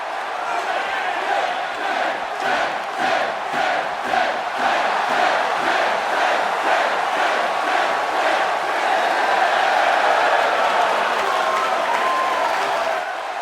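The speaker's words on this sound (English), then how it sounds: "So is this crowd, Michael, and justifiably so." A virtual arena crowd at a WWE 2K18 Elimination Chamber wrestling match keeps up steady, loud cheering and rhythmic chanting throughout, with no break.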